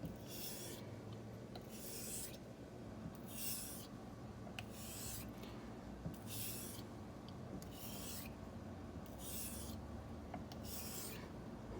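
A Boker Carbon Elite 3.0 knife blade is drawn in light forward X strokes across a wet natural whetstone, giving a faint, regular series of soft hissing rasps at a steady pace, heard close up.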